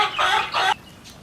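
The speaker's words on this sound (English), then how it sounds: "This is my chicken named Lufa." Lufa, a pet free-range hen, gives two quick close clucks in succession, loud and clear, followed by a faint trailing murmur.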